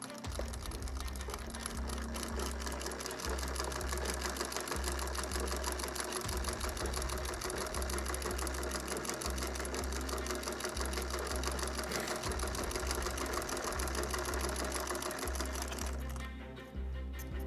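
A sewing machine hems a pant leg, whirring steadily and rapidly for a long stretch with a rhythmic low thump, then stopping briefly near the end.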